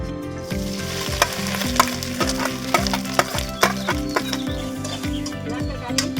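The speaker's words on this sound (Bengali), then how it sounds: "তেলটা আমি দিয়ে দিলাম, নারকেলটা আগে আমি ভাজা নিব" Grated coconut fries in hot oil in a village kitchen for a kochu shak dish, giving a steady close sizzle with repeated scraping stir strokes and no voices.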